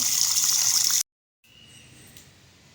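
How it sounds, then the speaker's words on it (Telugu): Water pours and splashes steadily over jackfruit pieces for about a second, stops abruptly, then a quieter running-water wash continues, close by with no talking. "నీళ్ళు పోసుకుని శుభ్రంగా కడుక్కున్నాము"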